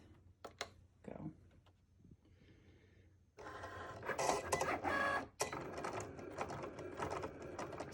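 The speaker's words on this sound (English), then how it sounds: "So what is happening is that the machine is actually cutting each cut" A craft cutting machine works through a holiday SVG design, making short whirring motor bursts and clicks at first, then a louder sustained buzzing run of carriage movement close by.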